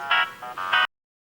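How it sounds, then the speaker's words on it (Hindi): A brief electronic ringtone chimes in a few bright pulses, then stops abruptly into silence. "बेटा देख तो किसका फोन है।"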